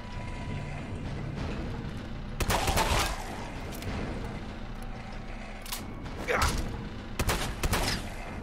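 Sharp gunshots in Fallout 4, two heavy blasts spaced a few seconds apart and a quicker burst of shots near the end, over mechanical clanks and creaks.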